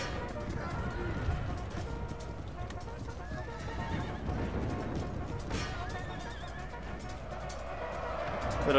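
Cavalry battle in the strategy game Empire: Total War, with horses neighing and whinnying over galloping hoofbeats and a dense clash of battle noise, continuous and loud throughout.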